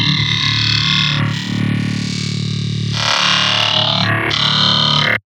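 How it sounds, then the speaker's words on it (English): A software synthesizer sweeps through its wavetable positions under heavy distortion, producing a loud, continuous buzzing, growling tone whose timbre shifts abruptly across several sections before cutting off at the end. "Now we can scrub through the wavetable position and listen to the different sounds we have available and the different tones."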